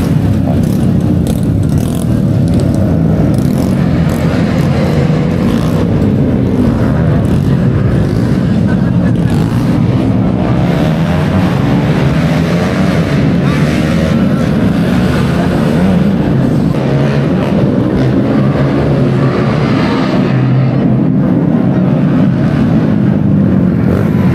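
Cars race along a road in Sorsogon, a steady roaring drone of engines and passing traffic heard from nearby throughout, with people talking over it.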